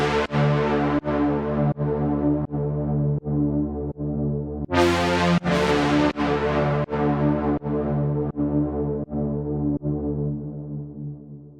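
Dark reverb bass stab from a synth, finalized, hitting in a steady repeated pattern of about a dozen sustained notes, each with a sharp attack and a reverberant tail, loud and alone.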